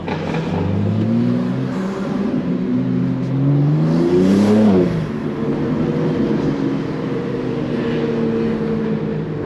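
A loud BMW G80 M3 accelerating on New York City streets, its engine note climbing and peaking around the middle before settling into a steady, close, droning roar.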